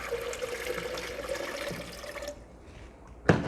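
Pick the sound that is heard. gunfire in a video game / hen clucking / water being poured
water being poured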